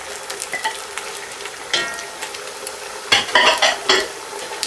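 Tomatoes are stirred into sizzling chicken karahi in a pan, with a continuous frying crackle under clinks and scrapes of a utensil against the pan that grow louder toward the end.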